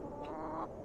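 Hens cluck in the video game The Excavation of Hob's Barrow, a steady busy cackle of fowl sounds running for just under a second at moderate level, with no speech.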